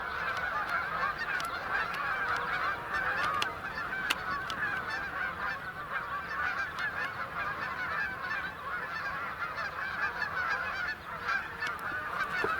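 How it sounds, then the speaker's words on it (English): Distant geese honk steadily throughout, a continuous chorus of overlapping calls from a flock far off, with no talking. "Still quite a few geese in the air in the distance."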